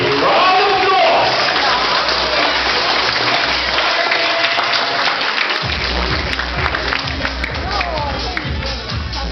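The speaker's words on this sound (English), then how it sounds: "Again, a big round of applause." An audience at an Ilocano-Irish association coronation night in Dublin breaks into loud, sustained applause. The dense clapping fills the room and slowly thins out.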